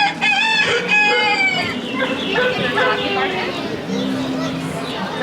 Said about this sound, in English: There is a chicken.